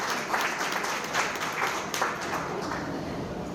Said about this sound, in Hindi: उसके लिए आपको बहुत सारी तालियां और बहुत सारा प्यार